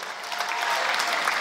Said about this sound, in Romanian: Aplauze, Maria Gheorgheu!